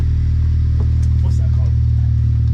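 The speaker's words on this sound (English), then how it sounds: "But if the car is just on, it's just like a low idle, you know?" Honda Civic Type-R fitted with an Invidia R400 exhaust sits at idle, a deep, steady low drone close by, with a person talking briefly over it.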